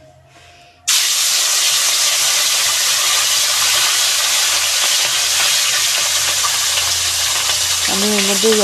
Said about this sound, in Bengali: আমি এর মধ্যে অল্প অল্প করে মাছগুলো 2-3 বারে ভেজে নেবো।